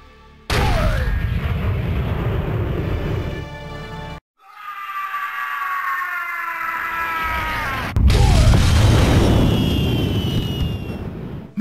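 Fireworks going off in the Kung Fu Panda DS game, loud rumbling booms in three long bursts with whistling, descending tones layered over them and a short gap between each burst.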